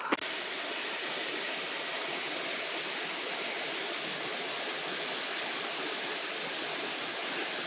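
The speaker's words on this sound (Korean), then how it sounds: "여러분, 용연 폭포입니다." Yongyeon Falls on Juwangsan mountain in Cheongsong, a steady, even rush of falling water that stays constant and unbroken throughout, with no voices.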